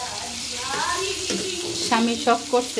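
Hilsa fish frying in a pan gives a steady, close hiss and sizzle throughout, while someone talks over it.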